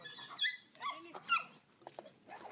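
A dog on a farm lets out a few faint, short whimpers and yelps in separate bursts, fairly quiet, with a soft background and no other clear sounds.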